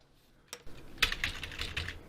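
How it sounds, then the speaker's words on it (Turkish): Quiet keyboard typing, a few scattered keystrokes followed by a quicker run of clicks, close by with no talking. "Klavye çalışıyor."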